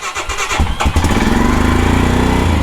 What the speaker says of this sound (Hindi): कोल्ड स्टार्ट करते हैं